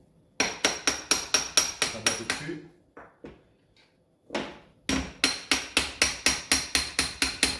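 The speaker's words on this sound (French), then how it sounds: "Petit marteau." A small hammer taps out the bearings of an Alboran FX 2020 stepper in sharp, evenly spaced metallic strikes, a run of about ten, a pause with a brief spoken remark, then a second rapid series of close, loud blows.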